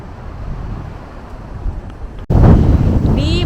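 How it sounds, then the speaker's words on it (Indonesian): Strong, cold wind on the grounds of Newstead Abbey rumbles and buffets the microphone, with a sudden louder gust roaring in partway through. "lagi dingin banget dan lagi berangin banget"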